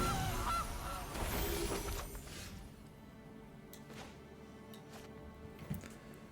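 Goose card effect in the MTG Arena digital card game: a loud goose honk with bright crashing chimes at the start, fading into quieter effects and soft clicks.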